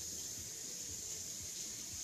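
Running tap water rinses fish guts in a steady, faint stream that flows without a break, with no voices.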